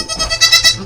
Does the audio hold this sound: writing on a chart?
no